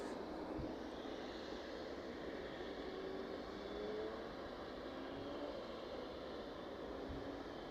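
Boeing 777 climbing out from East Midlands Airport in the evening, a faint distant steady jet rumble with slowly drifting tones, continuous and low in level.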